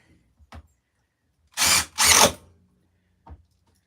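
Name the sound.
power drill driving screws into a table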